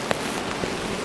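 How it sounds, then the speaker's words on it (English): Rain falling on a tunnel tent, a dense close patter over a brief moment with a couple of sharper drips. "can you hear the rain?"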